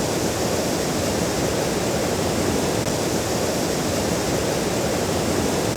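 Floodwater overwhelms a six-foot culvert under a farm road, producing a steady, loud, unbroken roar of rushing water with no voices.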